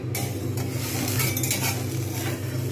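A boiled potato and cheese sandwich fries in a pan, giving a steady close sizzle mixed with scraping and clinking of a utensil against the pan, with no voice over it.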